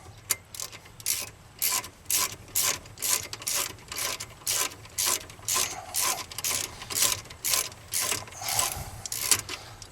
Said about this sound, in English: Obviously, I tighten them up just with a standard socket first.